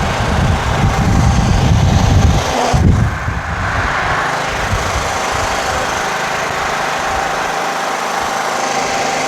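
Kohler Command 15 engine on a Scotts Murray 1542 riding mower idles steadily at its lowest setting, a close, even rumble with no surging; a brief louder burst at the start settles into a smooth continuous drone.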